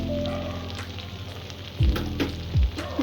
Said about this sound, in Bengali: গ্যাসের ফ্লেমটা মিডিয়াম লোতে রেখে মশলাটা কষে নেব।